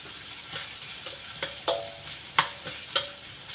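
Ginger and garlic frying in a pan, a soft sizzle broken by several sharp clinks and scrapes of a utensil stirring, close and without voices.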